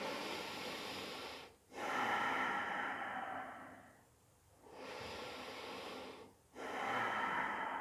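Slow deep breaths during a yoga plank pose, long drawn inhales and exhales with short pauses between, close and quiet, with no talking.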